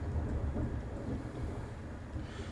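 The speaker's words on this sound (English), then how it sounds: "There's been a pretty big thunderstorm outside for a while now" Thunder from a big thunderstorm outside, a steady low rumble rolling on continuously with rain-like hiss above it, fairly faint and distant, with no voices.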